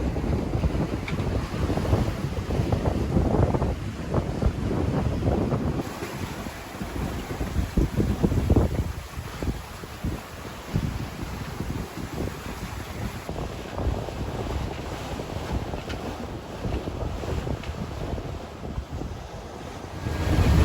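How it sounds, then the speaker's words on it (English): A sailboat under way on the Atlantic Ocean at dusk off Cape Hatteras, with steady roaring wind buffeting the microphone and waves washing against the hull throughout, loud and continuous with no voices. "And we're sailing."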